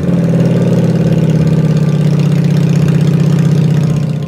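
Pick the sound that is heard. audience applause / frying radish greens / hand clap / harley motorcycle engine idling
harley motorcycle engine idling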